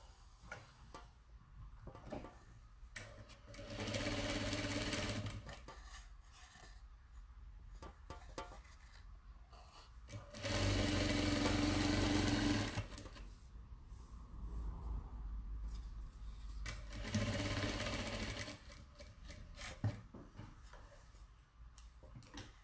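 Sewing machine stitching a kaleidoscope table runner in three loud bursts of steady rapid whirring, separated by quieter stretches of handling noise and small clicks.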